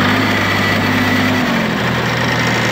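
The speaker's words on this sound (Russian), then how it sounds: "Отлично завелся трактор." A small ISEKI TU1 diesel mini tractor engine starts in winter cold, running loud and close, revving briefly before dropping to a lower, steady chug.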